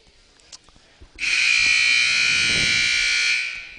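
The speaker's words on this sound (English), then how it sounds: "Buzzer sounds, and teams will be breaking huddle shortly." A loud, sustained electronic buzzer blares for about two seconds at a girls' JV basketball game after some faint background clatter, then cuts off.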